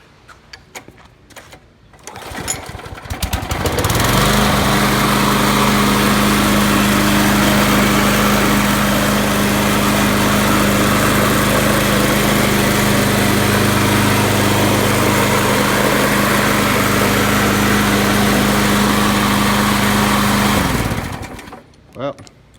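A trade-in Craftsman lawn mower with a new pull cord, primer bulb, spark plug and air filter starts up and runs rough, a loud steady close engine drone for about seventeen seconds before cutting out.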